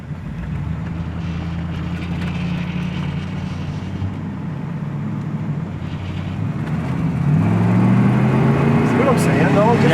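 A 1979 Corvette L82 drives with a steady low engine drone and road noise, rising louder toward the end as it accelerates, with people talking over it.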